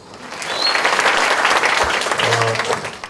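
Audience applause after a live concert performance at a lecture event, a dense, steady wash of clapping from a large crowd that holds strong for about three seconds before tapering slightly at the end.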